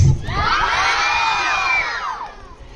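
A crowd of children at an English-language program scream and cheer together in one loud, sustained burst lasting over two seconds, then fading out.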